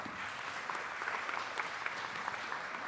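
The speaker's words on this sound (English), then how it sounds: "So let's clap for European chapters as well." Conference audience at an international youth biodiversity gathering in Yokohama breaks into applause, a soft, even patter of many hands heard from a distance.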